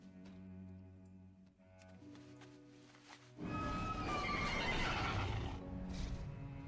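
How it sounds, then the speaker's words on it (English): A horse in World of Warcraft neighs with a long whinny, after which a louder burst of rustling and hoof-like clatter follows, with no talk. "Horse sounds."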